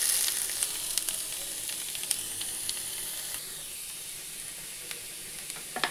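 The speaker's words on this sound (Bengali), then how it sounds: "লাউটাকে দিয়ে দিচ্ছি।" Grated bottle gourd, squeezed of water, frying in ghee with cinnamon in a pan: a steady close sizzle and hiss with a few soft stirring scrapes, no talking.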